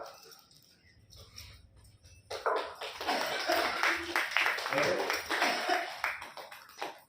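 An audience claps during a meditation session at a spiritual discourse in a Kabir ashram. The clapping starts abruptly after a quiet opening of about two seconds and then carries on as dense, sustained applause.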